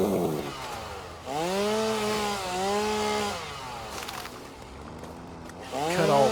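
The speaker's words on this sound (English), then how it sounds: "So grab our chainsaw." A chainsaw engine runs close by, revving up and easing back in smooth, droning swells with a brief dip midway before surging again.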